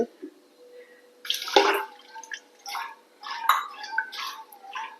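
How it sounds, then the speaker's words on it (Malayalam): Water splashes and trickles into a pressure cooker in uneven bursts, with a few sharp clinks and drips between pours. "നമുക്ക് കുറച്ച് വെള്ളം ഒഴിക്കാം അതിൽ"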